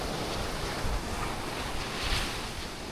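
Sea waves wash onto a beach in a steady, broad roar of surf, with gusting wind buffeting the microphone throughout.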